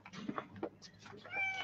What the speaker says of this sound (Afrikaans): Die kat speel daar.